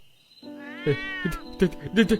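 A blue-eyed black cat in a cartoon story lets out one long, rising and falling meow, followed by shorter clipped sounds that may be speech.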